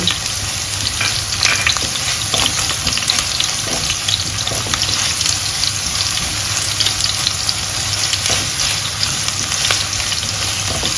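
Tomato paste frying in hot oil in a pan with onions, a steady close sizzle with crackling pops that runs the whole time with no talking.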